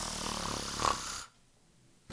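A voice imitates a goose snoring during a storybook reading: one drawn-out, rumbling snore up close, then sudden quiet.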